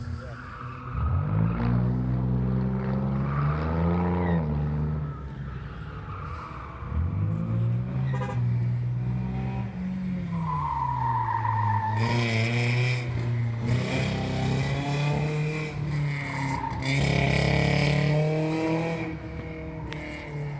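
A car engine lugs at low revs on stock gearing at a King of the Heap event, with a rough, uneven drone suggesting a failing coil pack. It surges in long pulls, and voices talk over it.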